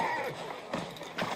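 A horse's hooves clip-clop in a few distinct steps, close by, with a faint whinny-like sound and voices mixed in.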